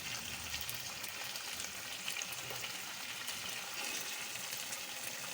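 Chicken sauteing in ghee and oil in a pan, a faint, even hiss of frying that carries on without a break and with no voices.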